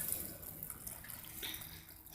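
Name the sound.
pouring hot water onto grain for beer brewing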